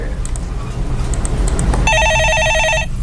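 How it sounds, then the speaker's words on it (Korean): A telephone rings in a broadcast studio with a repeated electronic trilling tone lasting about a second, coming in after a stretch of talk with background noise and standing out clearly. "예, 전화 받아보겠습니다."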